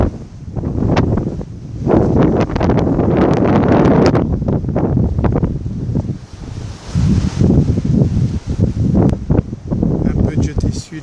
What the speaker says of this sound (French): C'est la météo, un vent très fort